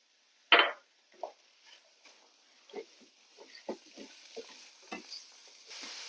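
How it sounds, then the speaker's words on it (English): Apples cooking in a pan of melted butter with a pinch of brown sugar and cinnamon give a quiet, soft sizzle, broken by one sharp knock near the start and scattered spoon scrapes and taps. "I'll put 1 tablespoon of butter, let it melt, put my apples in, with just a pinch of brown sugar and cinnamon to it"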